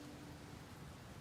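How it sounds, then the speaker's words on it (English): Soft rain ambience plays as a quiet, steady, even hiss of falling rain with no distinct drops standing out and no voices. "And the rain ambiance, is it good?"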